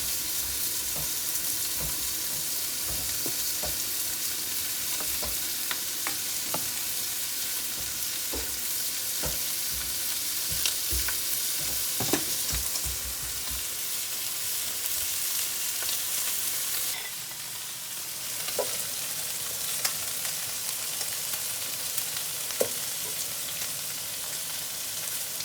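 Pierogies simmering in a pot beside pans of sauces, with a steady sizzling, bubbling bed of noise and scattered clinks and scrapes of utensils, close and continuous without talk.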